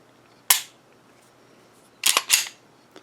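A Beretta APX A1 Carry pistol fires three sharp, loud shots close by: a single report, a pause, then two quick shots in succession.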